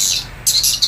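Swiftlet calling sound from a bird-attracting machine: bright, high chirps that swell in short bursts, heard alone.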